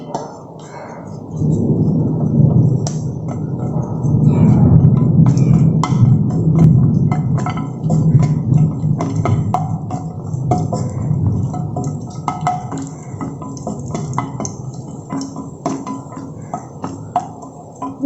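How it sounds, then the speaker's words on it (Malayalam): Cashews frying in ghee for a paneer biryani, a steady low bubbling sizzle with scattered clinks of a utensil against the pan, close up and continuous for the whole stretch without any voices. "പിന്നെ അണ്ടിപ്പരിപ്പും മുന്തിരിങ്ങയും ഒന്ന് വറുത്തെടുക്കണം"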